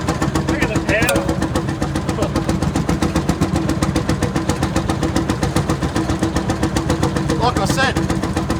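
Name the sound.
vintage tractor engine starting and running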